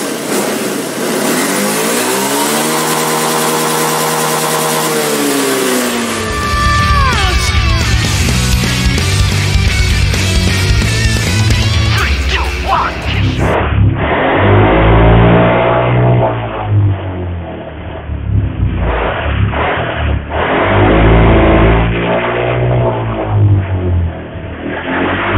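Honda Beat ESP scooter engine held at full throttle, revving hard and loud up close, with the engine pitch rising and wavering over a sustained roar and no talk.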